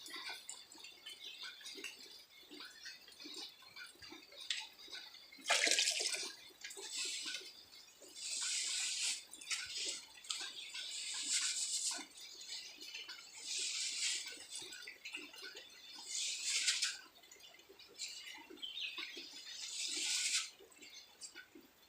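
Water splashing and pouring in repeated bursts as paddy grain is washed and the water drained off, a steady wet trickle between louder gushes, close by with no talk.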